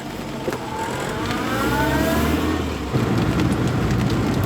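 An MG Midget small sports car's engine revs and accelerates while driving, pitch rising smoothly before a gear change, heard from inside with steady road noise.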